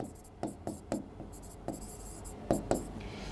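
A marker or chalk writing on a board during a chemistry lesson, a series of sharp scratchy strokes and taps in an irregular rhythm, close and fairly clear, with no talking during the strokes.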